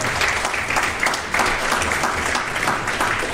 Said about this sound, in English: Now that alone is worth a round of applause